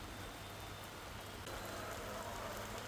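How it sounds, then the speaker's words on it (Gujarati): Afternoon rain over Nadiad city streets, including the railway station, bus station and Mill Road areas, a dense, even hiss of falling drops heard at a low, steady level throughout. "મિલ રોડ સહિતના વિસ્તારમાં વરસાદ વરસ્યો છે"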